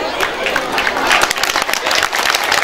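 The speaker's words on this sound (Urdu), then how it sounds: "تالیوں سے استقبال کر دیں دوستو" A short burst of steady, dense audience applause welcoming guests at a school's annual function, many hands clapping loudly together without pause.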